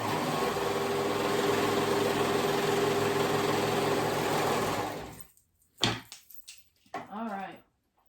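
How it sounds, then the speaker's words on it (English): A sewing machine runs steadily and loudly for about five seconds, stitching the side seams of a cardigan, then stops. Brief handling noises and a short stretch of talking follow. "I'm going to go ahead and sew up those sides all the way up and all the way down."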